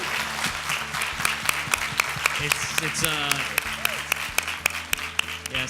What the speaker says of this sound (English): A big hand of applause for the chefs for what they've done today